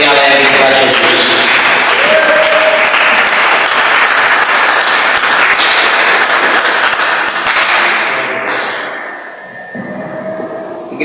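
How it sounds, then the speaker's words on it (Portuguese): Church congregation giving a cheerful round of applause for Jesus during a service; loud, dense clapping from many people that holds steady, then tapers off near the end into quieter room noise. "dê uma salva de palmas bem alegre para Jesus"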